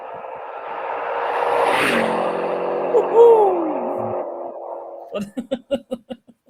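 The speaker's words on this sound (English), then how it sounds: "I'm trying to find some fast car sound effects." A fast car sound effect plays loudly, its engine whoosh rising and then sweeping down in pitch like a revving pass-by, before a short burst of voices at the end.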